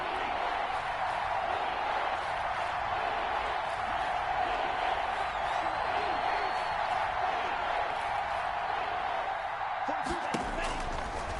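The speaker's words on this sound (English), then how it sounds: "The crowd getting into it as we come up on a big 3rd down." Stadium crowd in a PS4 American football video game, a constant loud roar of cheering fans filling the scene throughout, with a brief thump near the end.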